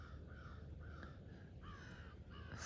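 Several crows caw back and forth in repeated harsh bursts, a noisy squabble at moderate distance over a steady background hum.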